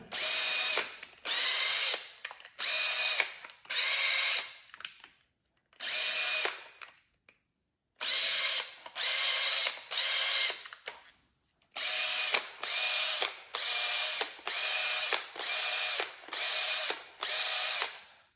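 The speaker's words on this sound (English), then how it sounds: "Then we're going to screw the guide onto the fitting, like so." A power tool screws a guide onto a male AN fitting in repeated bursts of whirring, about a dozen short runs separated by brief pauses, loud and close with no talk.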